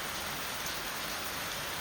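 Dense, steady rain pours down in a continuous close wash of noise, alone and fairly quiet overall.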